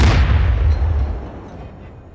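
Enemy artillery in the DCS combat game fires back with a single heavy boom, loud and close, whose rumbling tail fades away over about two seconds with no talk.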